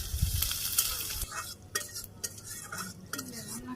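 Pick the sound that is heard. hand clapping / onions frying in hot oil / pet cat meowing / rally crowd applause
onions frying in hot oil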